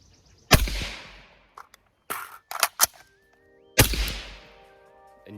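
An AK rifle fires during a shooting drill, with two loud, sharp outdoor shots about three seconds apart, handling and metallic clacks between them, and each report ringing out into a long fading echo.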